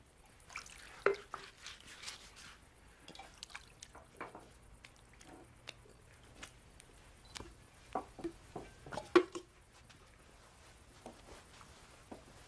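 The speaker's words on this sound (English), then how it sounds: "he poured some water into a wash basin and began to wash the disciples' feet" Water trickling and dripping into a wash basin as feet are washed, a quiet close patter of small splashes and drips, irregular and soft, with no one talking.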